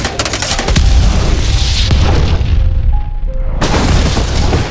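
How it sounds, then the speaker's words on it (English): A gas tank explodes after being shot in a film action scene, a loud, heavy boom with a deep rumbling roar that sustains across the clip, followed by a renewed burst of blast noise near the end. "Alice and Ada Wong shot at the gas tank together"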